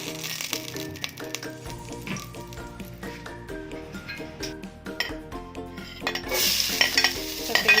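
Oil heating in a pan as cooking begins gives a soft sizzle beneath busy stirring clatter and utensil clinks, with the sizzle swelling louder near the end; no talking.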